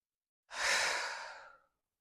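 A single slow, breathy exhale during a hatha yoga flow, close and soft, rising quickly then fading over about a second, with silence around it.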